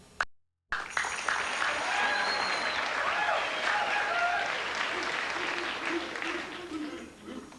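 A television studio audience claps on a Nashville country music talk show, a dense, steady round of applause that starts after a brief gap and carries on strongly before easing slightly at the end.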